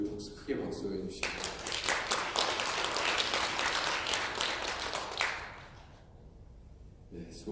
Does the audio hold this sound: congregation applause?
yes